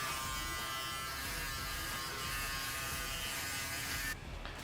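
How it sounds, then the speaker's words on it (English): A steady, loud electric shaver buzz runs close up on afro hair during a fade haircut without pause, then the motor winds down abruptly near the end. "I'm going to use my shaver now."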